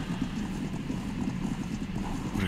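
Horse hooves clip-clop steadily in a Viking roleplay video game, a continuous rhythmic trotting of several horses, close and moderately loud, with no voices over it.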